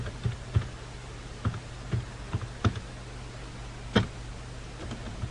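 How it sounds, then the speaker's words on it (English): Typing on a computer keyboard: a run of sharp, irregular key clicks close by over a steady background hiss, with no talking. "when I'm typing sentences"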